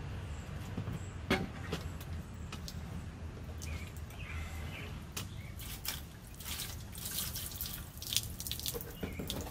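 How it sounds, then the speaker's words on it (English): Water runs and splashes steadily from a tap, with scattered drips and sharper splashes as a Ritchey-Chretien telescope part is given a final rinse with distilled water under the flow. "do the final rinse with the distilled water"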